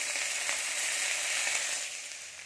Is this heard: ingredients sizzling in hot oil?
yes